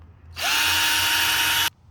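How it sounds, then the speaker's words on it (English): A power drill with a 1/4 inch bit spins up sharply drilling a hole in metal on a mower, whines at a steady high pitch for just over a second, then cuts off. "So I'm just going to drill the holes first"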